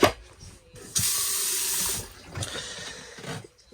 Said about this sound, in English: any water in the pipes behind all the furniture in the vehicle and any water in this pipe will drain out